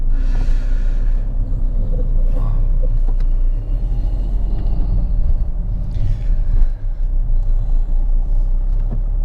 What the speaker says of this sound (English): A silver car creeping along at 2 miles an hour.